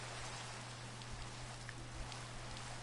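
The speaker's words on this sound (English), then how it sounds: "Rain." Steady rain falls in the Minecraft video game, a continuous dense hiss of drops that holds at an even level throughout, with no talk over it.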